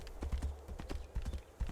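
Horse hooves clip-clopping in the video game Tainted Grail: Fall of Avalon, a quick, steady trotting rhythm of hoof strikes, close but fairly quiet.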